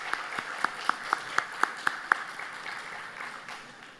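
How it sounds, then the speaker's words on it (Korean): A church congregation at an early-morning service claps in encouragement for the short-term mission team. Dense applause carries a few sharp, evenly spaced louder claps near the front for about two seconds, then thins and fades. "특별히 우리 단기 선교팀을 향해서 다시 한번 박수로 격려하도록 하겠습니다."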